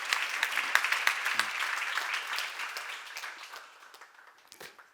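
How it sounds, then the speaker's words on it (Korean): A church congregation claps together, loud at first and then thinning and fading as the applause dies away, with a few last scattered claps at the end. "박수하세요"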